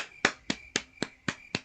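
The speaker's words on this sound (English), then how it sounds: "I'm clapping alone in my room at 12:28 a.m. on a Wednesday night." A single person clapping alone in a quiet room at night, six crisp, evenly spaced claps at close range with nothing else heard.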